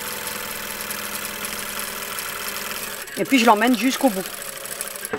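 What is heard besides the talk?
sewing machine stitching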